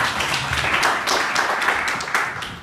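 A crowd claps for Cora at a church gathering, a short burst of dense, steady applause, fairly loud and near.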